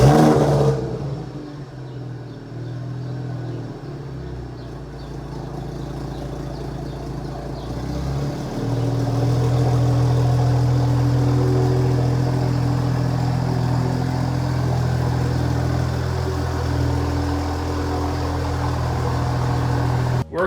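A car engine hums and revs as it pulls into a two-car garage, a steady mid-level drone that grows louder and holds near, with no talking.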